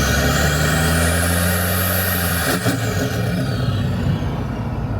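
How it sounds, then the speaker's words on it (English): Engine-swapped Nissan Patrol accelerating under boost, a loud close drone climbing in pitch, then a sharp whoosh of released air midway and a lower rumble after. "Alright, that sounds sick. I missed that sound."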